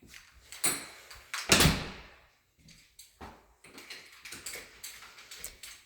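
A house's back door opens and closes, with a sharp loud knock or slam near the start, then quieter clunks, latch clicks and shuffling steps close by.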